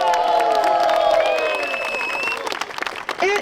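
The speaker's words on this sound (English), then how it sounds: "Let's round of applause for our volunteers." An audience at a public meeting applauds museum volunteers with sustained clapping, some cheers and a whoop, while a few voices and a tonal sound briefly ride over it before it thins out toward the end.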